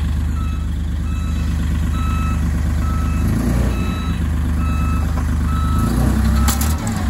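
A Mecalac TA3SH four-wheel-drive site dumper rumbles loudly and steadily nearby, its engine driving under a reversing alarm that beeps in an even, repeating rhythm, with a brief clunk near the end and no talk.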